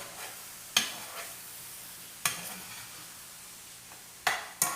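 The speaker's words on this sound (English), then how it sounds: "you're basically stir frying this, guys" Food being stir-fried in cast iron pans gives a steady low sizzle, broken by a few sharp metallic scrapes and clanks of a utensil against the pan at irregular intervals, with no talking.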